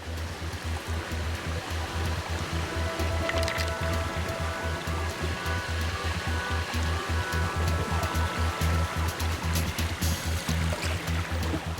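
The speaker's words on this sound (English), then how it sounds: "We're at the end of the world, on an enormous glacial river" A huge glacial river in remote Greenland rushes past in a steady, loud broadband roar of turbulent water, continuous and close, with no speech over it.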